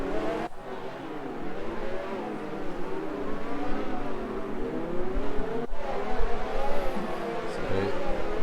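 Race cars roaring around the Monaco Grand Prix circuit in a racing video game, a steady engine drone with revving passes throughout, under a commentator's voice.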